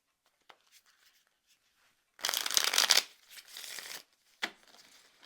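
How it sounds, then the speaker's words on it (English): Linen-finish tarot playing cards being shuffled, a loud riffling burst lasting about a second, then a softer second riffle and a brief snap, with quiet handling noises around them. "Let's see if I can shuffle these."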